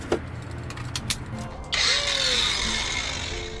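A battery angle grinder fitted with an abrasive disc spins up and then grinds steadily along edges on a small fishing boat, a bright sustained whine after a few knocks and handling sounds.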